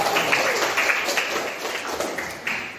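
A classroom of students claps briefly for a classmate during a lesson, a moderate, somewhat sparse patter of hands lasting a few seconds.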